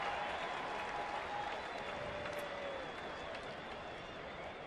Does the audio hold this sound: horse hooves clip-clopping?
no